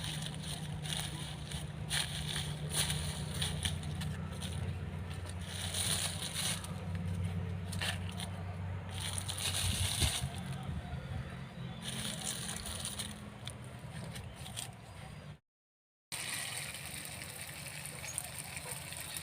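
Water poured from a can or mug into the soil of a potted kunda (jasmine) plant covered with leaves and a layer of soil, giving a steady, close sloshing and splashing that runs for most of the stretch, with a brief gap near the end.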